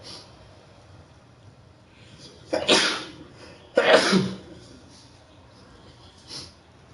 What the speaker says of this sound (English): I know people just be feeling anxious anytime somebody sneezes nowadays.